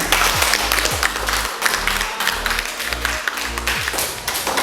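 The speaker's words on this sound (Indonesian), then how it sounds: "Oke, tepuk tangan." Students in a classroom clap their hands, a dense burst of applause that holds steady and loud throughout, close to the listener, with no talk over it.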